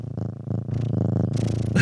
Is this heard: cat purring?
yes